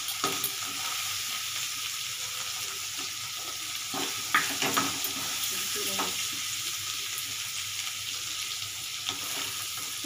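Chickpeas frying in a pan give a steady, close sizzle throughout, with a few brief stirring clinks and scrapes partway through; no one speaks.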